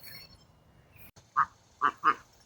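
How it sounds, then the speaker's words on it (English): Three short nasal calls from ducks, khaki Campbells among them, inside a backyard duck coop that was once a chicken coop: isolated quacks, close and moderately loud, with a brief pause between the second and third, over a quiet background. "This is my duck coop."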